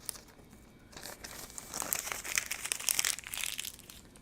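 A sheet of paper is crumpled up in a sewing room, a close, dense crinkling that starts softly and grows louder and busier, with no talking.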